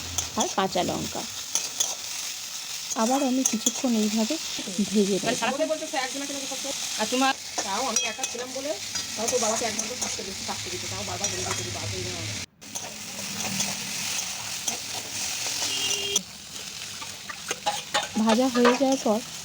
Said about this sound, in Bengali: কাঁকরোল একটু চাপা দিয়ে দিয়ে ভেজে নেব তো আমার কাঁকরোল হাফ ভাজা হয়ে গেছে এই সময় দিয়ে দেবো লম্বা করে কাটা আলু